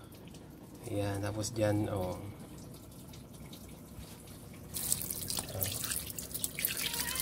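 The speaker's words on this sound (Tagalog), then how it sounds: "switch natin dyan at buksan ang faucet. Ayan, lalabas na siya dyan." Water runs from the opened faucet of a mini home water filtration system in a steady, hissing stream. It starts partway through and continues to the end, with a person talking over the earlier part.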